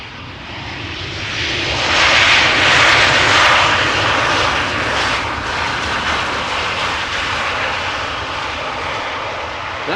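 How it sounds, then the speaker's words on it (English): A KLM Boeing 737-800 arriving from Edinburgh lands at Amsterdam Schiphol, its engines roaring loud and steady with a swelling burst of reverse thrust, a continuous broadband rush that holds throughout with no voices. "That was a little bit of reverse thrust that we heard just now."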